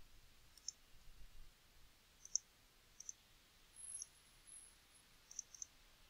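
Computer mouse clicking at a desk, about seven sharp, faint single clicks spaced irregularly, one of them a quick double, over a quiet room hush.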